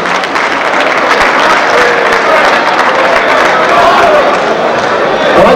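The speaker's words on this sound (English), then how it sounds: "A nice round of applause." Sustained crowd applause fills an arena at a 1992 pro boxing event in New York, a dense, steady clapping roar with some background voices throughout.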